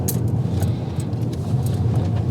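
Steady, loud engine rumble and road noise from inside a car driving along a road, continuous throughout with no talk.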